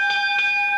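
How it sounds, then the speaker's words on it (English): A ring bell chimes in a Memphis wrestling arena in 1986, giving a couple of quick metallic dings with a sustained ringing tone over a low crowd murmur. "Tap the bell."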